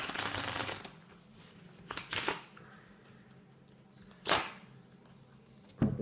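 A deck of ordinary playing cards shuffled for a simple magic trick: a long riffling burst at the start, then a few sharp, close riffles and card snaps spaced apart, with no talking.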